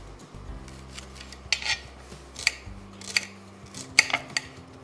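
A kitchen knife slices peeled white onions on a cutting board, a handful of sharp, separate chopping taps with uneven spacing over a faint low hum, close and fairly clear.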